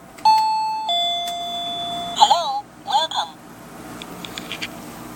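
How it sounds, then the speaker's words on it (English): A high-tech doorbell gives clear electronic chime tones, then a synthesized spoken response follows in short bursts, close and fairly loud. "You're looking at the first high-tech doorbell."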